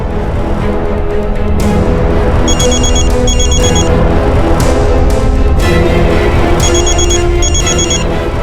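A telephone rings loud and close, its electronic trills repeating in paired bursts over a dense, steady background as a call is placed to a suspect.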